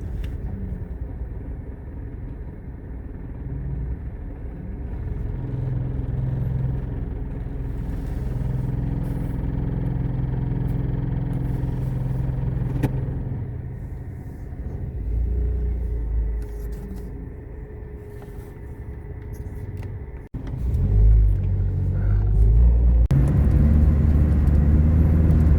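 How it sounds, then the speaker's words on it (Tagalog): Rush hour road traffic on Jumeirah Road in the late afternoon, heard as a steady low rumble of car engines. Passing vehicles swell and fade throughout, with a louder, closer engine surge near the end. "Jumeirah Road. Traffic na, rush hour na."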